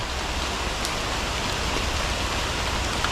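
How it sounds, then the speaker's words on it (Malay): Steady rain falls in a continuous soft hiss, with no other sounds standing out. "Sekarang ni dalam hujan saya duduk kan"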